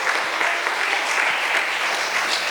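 Steady, dense applause from a church congregation, fairly close and continuous throughout with no voices standing out.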